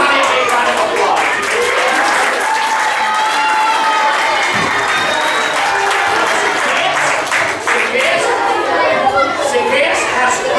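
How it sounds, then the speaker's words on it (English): Applause from a children's audience at a vacation Bible school fills the room, steady and fairly loud, mixed with crowd chatter and children's voices throughout. "It's not a big round of applause."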